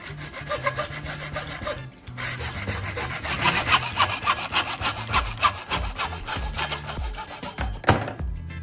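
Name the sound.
small hand saw cutting plastic tube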